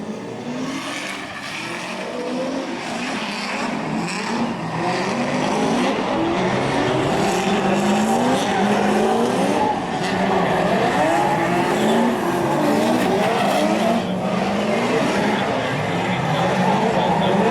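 A race car at a Great Lakes Pro Am seeding round roars loud and close around a track's infield, with tires squealing through the turns. The engine drones steadily throughout, under a commentator's talk.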